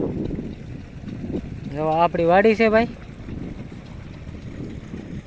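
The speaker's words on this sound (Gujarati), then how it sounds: "અને મશીન અત્યારે ચાલુ છે અવાજ તમને આવે છે અને અહીંયા ચારે બાજુ પવન સરખી પણ ચાલુ છે" A farm irrigation machine runs outdoors in a field, giving a low, steady rumble under gusting wind noise while someone speaks briefly in the middle.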